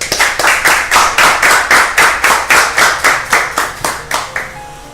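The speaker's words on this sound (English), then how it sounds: "Please give him a warm welcome and a nice round of applause." Brisk rhythmic clapping from a small group, loud and close, steady beats for a few seconds before trailing off.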